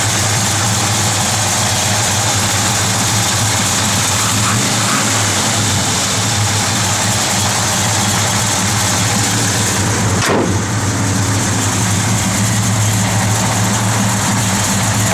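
A 1965 Chevrolet Chevelle 300 engine idles with a lumpy cam lope, a steady low rumble running throughout without talk.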